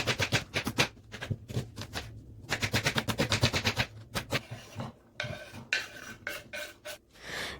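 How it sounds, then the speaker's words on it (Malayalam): A knife slices an onion on a cutting board, halved and then cut lengthwise, giving fast bursts of crisp, rapid chopping taps in close, rattling runs separated by short gaps. "ഞാനിവിടെ സവാള കട്ട് ചെയ്യുന്നത് ഇങ്ങനെയാണ്, ഹാഫായിട്ട് പിന്നെ നീളത്തിലാണ് ഞാനിവിടെ കട്ട് ചെയ്തെടുക്കുന്നത്"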